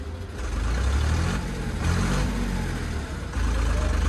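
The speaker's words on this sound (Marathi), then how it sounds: "एवढा मोठा ट्रॅक्टर आहे त्याला आवाज येत नाही का" A large tractor's heavy engine rumbles steadily at moderate distance, a low continuous drone with slight swells, no voices.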